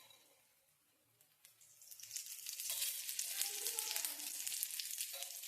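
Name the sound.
frying in oil on a higher flame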